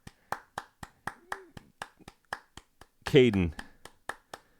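Steady, close-up hand clapping in an even beat, a long run of sharp claps briefly interrupted by a voice calling out, then the clapping continues.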